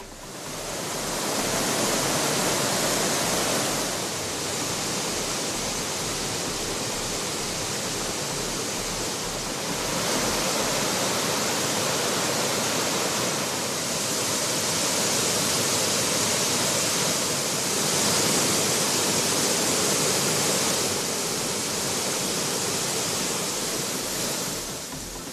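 Thiruparappu waterfall pours with heavy flow, a dense, loud, unbroken roar of falling water that holds steady throughout with no voices.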